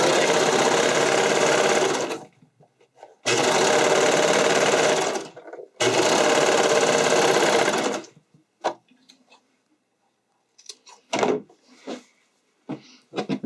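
Widest zigzag stitch on a sewing machine sewing stretched elastic down onto a bodice keyhole neckline: three loud, steady runs of fast mechanical whirring separated by short pauses, then quieter clicks and fabric handling.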